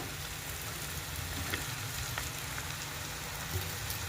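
Leftover cooked rice tipped into a hot pan of oil and vegetables for a quick pulao, giving a steady, soft, even sizzle and crackle that carries on throughout at a low level, with no voices.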